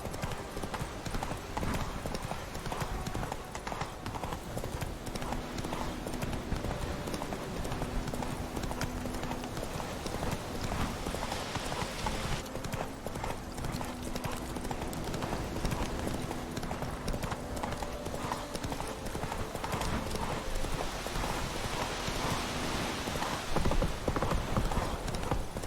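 Roach, a horse in the video game The Witcher 3, gallops in a steady rapid drumming of hoofbeats on the ground that runs for the whole stretch, loud and close, with ambient game sounds underneath.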